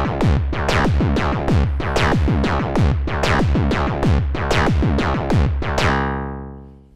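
A Moog DFAM analog drum synthesizer running its step sequence: a rapid, steady stream of loud percussive synth hits with pitched tonal bodies, repeating evenly before the final note rings out and fades.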